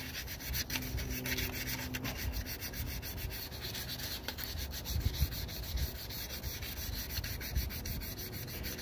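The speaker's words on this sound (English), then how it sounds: "I like to use the P500. That works better for me. So just to sand this area here." Sanding a Mazda CX-7 2.3L turbo valve cover gasket surface by hand with P500 sandpaper: a steady, continuous close-up rubbing scrape with gentle back-and-forth rhythm, heard alone without talk.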